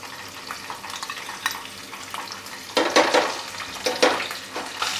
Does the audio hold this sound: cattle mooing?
no